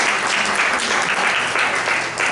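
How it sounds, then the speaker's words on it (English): Audience applauding at a community event, a thick continuous wash of many clapping hands, loud and steady throughout with no talk over it. "So let's give her a round of applause too."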